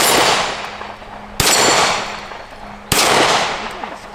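Three sharp, loud shots from a Taurus TS9 9mm pistol ring out at steady intervals of about a second and a half, each one leaving a long decaying echo.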